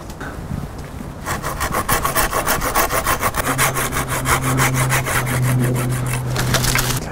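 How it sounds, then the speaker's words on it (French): A pruning saw cuts through dry wood on a shrub during garden pruning, giving steady rhythmic rasping strokes, close and loud, running continuously for several seconds with no talking. "Pour couper du bois sec, c'est beaucoup trop dur pour mon sécateur. Alors je vais utiliser une scie d'élagage."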